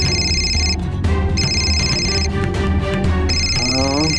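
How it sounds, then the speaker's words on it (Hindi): Repeated electronic phone ringtone sounds in bursts, a ringing tone broken by short gaps, close and loud over a busy background of music and ambient sound. "दुबई से फोन आ रहा है"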